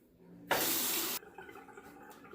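Running tap water rinsing a RazoRock Hawk V2 safety razor at a sink, a single loud burst of flow lasting under a second, then quieter handling sounds.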